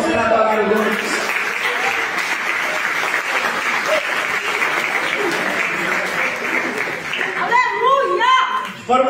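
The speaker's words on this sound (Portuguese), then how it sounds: "eu dava uma salva de palmas para adorar o nome" A church congregation bursts into sustained, dense applause lasting several seconds, with voices and light chuckling mixed in near the start and end as the clapping fades.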